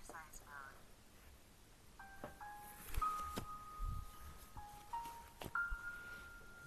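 A short electronic melody plays from an SKG eye massager, stepped single tones rising and falling in a simple tune with a few soft clicks between, heard close and fairly quiet.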